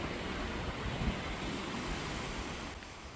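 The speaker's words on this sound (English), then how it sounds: "here at the shoreline, pretty decent little waves breaking." Steady wash of small lake waves lapping and breaking along a shore in Yellowstone National Park, mixed with wind rumble, continuous and moderately loud.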